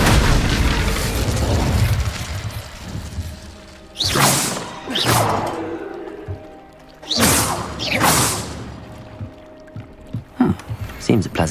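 Incendio fire spell bursts in Hogwarts Legacy come as two loud whooshing blasts with rushing, crackling tails, spaced a few seconds apart over game ambience, followed by smaller thumps.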